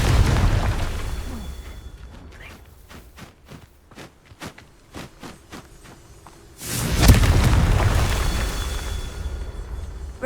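Confringo fire spell in Hogwarts Legacy: a string of sharp, quick pops and thuds spread over a few seconds, then a big rumbling blast with a long booming tail, near and loud.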